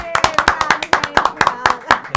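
A studio audience and hosts give a burst of rhythmic applause, sharp close hand claps repeating steadily to welcome a nurse guest on a health talk show about women's and gut health.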